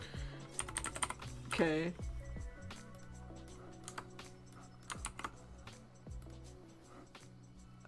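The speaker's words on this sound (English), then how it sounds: "You like the clicky keyboards?" Clicky mechanical computer keyboard typing, a steady patter of sharp, close keystrokes, with a brief spoken word and a short vocal sound near the start.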